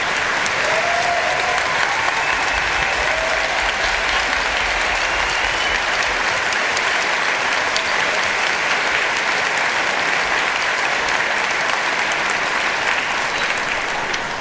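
At an All County school concert the audience claps loudly and continuously for the parents of the performers, a thick, unbroken wall of applause lasting the whole stretch with no letup.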